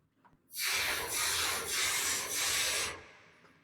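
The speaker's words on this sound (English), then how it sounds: "we're at the plasma reload indicator section" The plasma reload indicator sound for the hero Hazard in the video game Overwatch 2 is heard alone as a dense, airy whoosh. It swells in and holds for about two and a half seconds with slight pulsing, then fades out.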